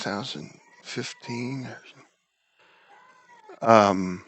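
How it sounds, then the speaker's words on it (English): A house cat meows at the door, wanting to be let in; a short rising call sits between stretches of a man's speech, faint and close, with talk before and after it. "That's my cat."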